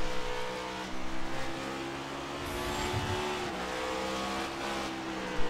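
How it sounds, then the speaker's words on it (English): Race cars in a sim racing game, on track in Texas, roar with sustained engine tones that rise and fall as they brake and accelerate into a corner, loud and continuous with no talk. "James Thurston locking up the brakes into turn one."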